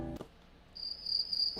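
A short crickets chirping sound effect plays as a steady high trill, faint and alone after a brief thump, carrying on to the end without talk.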